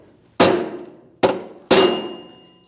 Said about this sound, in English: I'm just going to take a long brass punch and give it a good whack